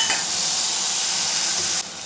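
Ground ginger, garlic and green chilli paste dropped into hot oil in a pan, giving a steady, loud bright sizzle that holds evenly and then drops away abruptly near the end.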